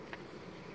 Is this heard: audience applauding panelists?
no